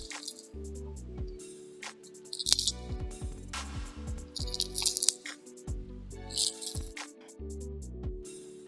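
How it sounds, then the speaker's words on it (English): Crunchy, crackling squish of a druzy resin tray with dried flowers being flexed out of its mold, in repeated close bursts of cracking and squelching with quiet pauses between. "How satisfying is that demold crunch?"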